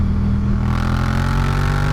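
A Suzuki GSX-8R twin-cylinder motorcycle engine revs hard and steadily near its torque peak, a loud, close, sustained drone that rises slightly in pitch, with no voices.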